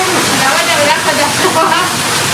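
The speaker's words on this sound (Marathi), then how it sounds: "धबधबा आहे आमचा मित्रांनो बघा" A waterfall rushes steadily and loudly, close by, with constant splashing and roaring water throughout while someone talks over it.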